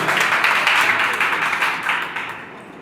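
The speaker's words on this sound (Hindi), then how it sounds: "मैं आपके लिए पुनः एक बार जोरदार ताली बजाना चाहता हूँ" Audience applause at an honour ceremony held by a Himalayan trust, loud enthusiastic clapping from a crowd that gradually thins and fades toward the end.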